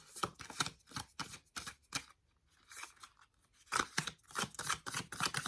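Light Seers tarot card deck being cut and shuffled: a steady run of crisp, close card snaps and riffles in quick bursts, with a short quiet gap partway through before the card noise resumes.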